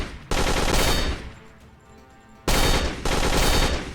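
Automatic assault weapon fire in the Aim Lab training game: loud sustained bursts of rapid shots, a long burst, a decaying tail, then two more bursts close together.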